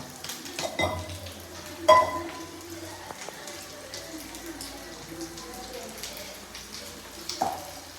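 Fish fries in a pan of oil with a low, uneven crackle and occasional bursts and knocks, a moderately close sizzle with scattered pops and a louder spatter near the start.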